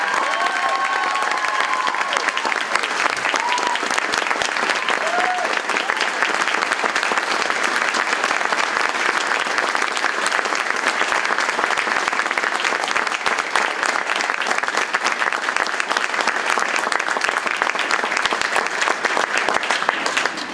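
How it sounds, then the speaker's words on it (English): Sustained applause from a large audience at a 2015 Man and Woman of the Year cancer charity gala, dense and steady for about twenty seconds, with a few scattered cheers and voices mixed in. "Please join me in giving them a thunderous round of applause to these men and women."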